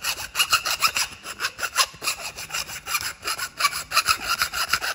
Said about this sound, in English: You can either file it, right, so we will need to remove the burrs on the inside.